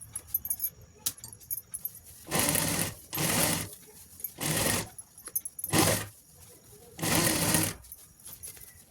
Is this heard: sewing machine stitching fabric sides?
yes